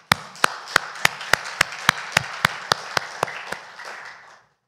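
A church congregation claps to celebrate members' birthdays, a crowd of hands in a steady beat, with about fourteen sharp accented claps over a softer patter, ending in a brief scatter before silence.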